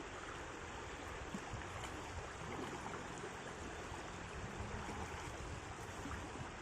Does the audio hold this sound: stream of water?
yes